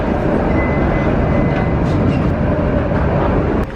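Tram in Dubai Marina pulling in toward the stop, with a loud, steady rumble of rail noise and a faint high whine, close by and continuous for a few seconds.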